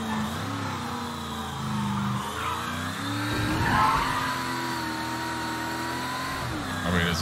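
A smooth, whining electric motor hum with rising and falling pitch as an electric car drives and accelerates in the video game Mafia 3, steady and fairly loud, with no talk.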